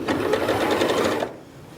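A Janome MC8200 sewing and quilting machine running a straight stitch. A rapid, even mechanical chatter sounds up close for just over a second, then stops abruptly, leaving near silence.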